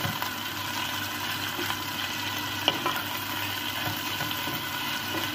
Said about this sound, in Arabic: نقلبها مع الزيت تتحمص